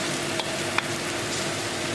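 Tomatoes being stirred for chicken biryani sizzle steadily in a hot pan, a constant loud frying hiss with a couple of brief utensil clicks.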